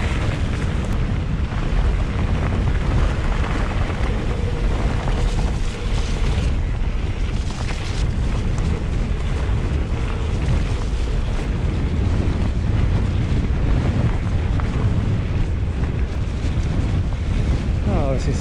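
A strong headwind roars across the microphone during a mountain bike ride in the Yorkshire Dales near Malham Cove, a loud, continuous rushing buffet that lasts the whole time.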